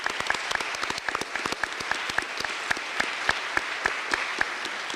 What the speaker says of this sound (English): So why don't we all give them a round of applause.